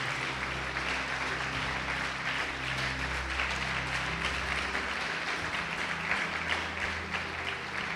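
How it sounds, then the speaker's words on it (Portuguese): A church congregation applauds in praise. The clapping is fairly soft and continuous over a steady low hum, likely from music or the sound system, and lasts the whole stretch without fading. "Pode aplaudir o Senhor Jesus"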